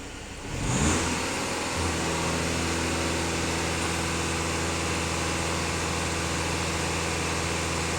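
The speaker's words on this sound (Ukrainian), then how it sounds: "Даю газ в пол." An Audi A4 B9 2.0 TDI diesel engine is floored to full throttle, rising from a quick rev into a loud, sustained high-rpm drone that holds steady without voices.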